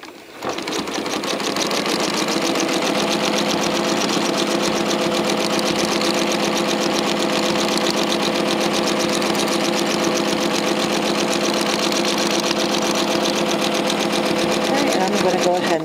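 A sewing machine doing free motion quilting runs in a steady, fast, continuous stitching hum for the whole stretch, close and even, with a voice talking over it.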